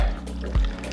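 Weller bourbon whiskey poured into a mug of homemade hot cocoa, a short close liquid splash and trickle lasting about a second.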